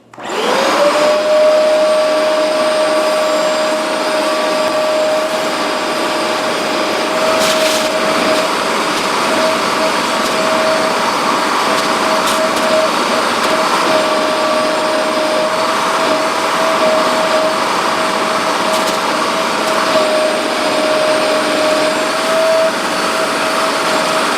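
A Hoover MaxExtract 60 PressurePro carpet cleaner runs loudly and continuously while scrubbing a mat, a steady motor whine and suction drone holding alone for the whole stretch.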